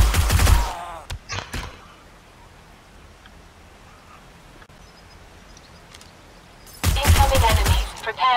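Gunfire aimed at zombies in the survival game 7 Days to Die: a loud volley of shots opens, then quiet ambience holds before another heavy burst of firing closes.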